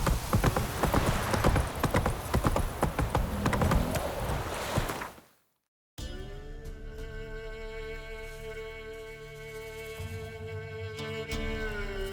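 The horse Roach in The Witcher 3 gallops with rapid, loud hoof clip-clops over game noise, then cuts to brief silence, followed by a quieter scene of steady tones and a faint mechanical hum.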